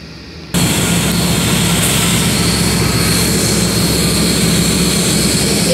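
Union Pacific freight locomotives at Alpine station surge into a loud, steady diesel roar after a brief quieter moment, the engine noise sustained and near for the rest of the span.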